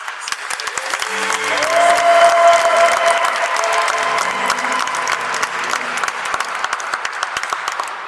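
Applause at a wedding blessing mass in Brussels, loud and sustained from a full church, with voices calling out and a brief sung note rising above the clapping.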